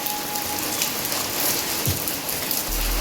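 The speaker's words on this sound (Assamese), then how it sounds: "পুৰা হেভি বৰষুণ দি আছে" Heavy rain falls steadily and close by in Guwahati, a continuous dense hiss of drops striking surfaces with water trickling nearby, no voices.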